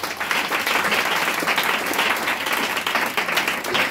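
A church congregation breaks into sustained applause, a dense even wash of many hands clapping that fills the room, with no voices over it.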